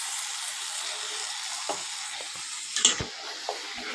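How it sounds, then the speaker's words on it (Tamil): Tapioca gravy with garam masala sizzles in a pan while it is stirred, a soft steady hiss broken by a few brief scrapes and knocks near the end. "இப்போ கிண்டணும்."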